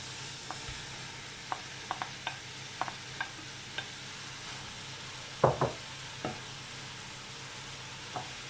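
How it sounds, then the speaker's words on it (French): Meat browning with onions frying in a pan for borscht makes a faint, continuous low sizzle, broken by scattered sharp clicks and taps from stirring. "La viande commence à dorer. Je vais mettre les oignons."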